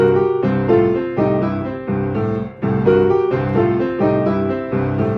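Piano plays a repeating swung blues lick in steady eighth notes, bright right-hand figures over low chords, with no voices.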